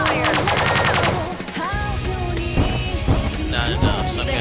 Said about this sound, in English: Commencing fire!